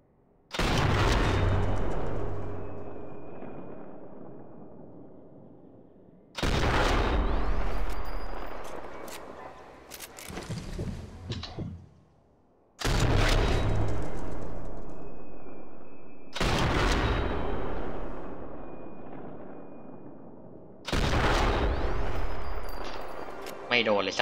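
Sniper Elite 4 gunfire: five loud, sharp rifle reports spaced several seconds apart, each booming and then trailing off in a long, fading echo, with no talking.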